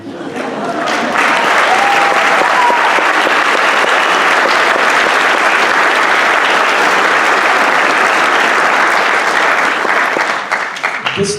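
A high school jazz show audience bursts into loud, sustained applause and cheering, with a few whistles early on, the dense clapping holding steady for about ten seconds before easing off.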